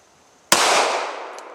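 A single sharp shot from a Sig Sauer P320 X Compact pistol cracks loudly outdoors, followed by a short decaying echo.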